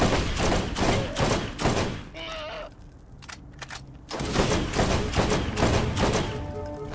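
Rapid gunfire in the video game Borderlands, with dense bursts of shots pounding close and loud, a short lull in the middle, then heavy firing again, mixed with game sound effects.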